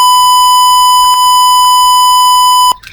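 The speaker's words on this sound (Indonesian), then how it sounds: "sistem memberikan status bahaya dengan menampilkan LED merah dan suara buzzer" An Arduino alarm buzzer signalling a danger status sounds a single steady, piercing high-pitched beep that holds for a few seconds, then cuts off abruptly.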